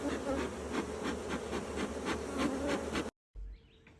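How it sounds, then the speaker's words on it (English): Honey bees near a hive during queen-cell work buzz densely and continuously up close, with a fluttering swarm texture and a short sudden cut near the end. "Sarah, we got some bees flying around here?"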